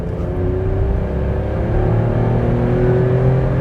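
A 2012 VW Up accelerates hard on an open road, its small engine droning and climbing steadily in pitch from inside the cabin, loud and continuous with no talking.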